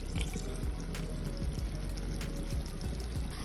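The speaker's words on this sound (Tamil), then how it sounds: "மற்றது வந்து நான் எடுத்து வச்ச பாதி தேசிக்காய் சாறையும் நான் விடுறேன்." Lemon juice is poured into a pan of chicken curry, giving a close, continuous liquid trickle and patter with small splashy drips throughout.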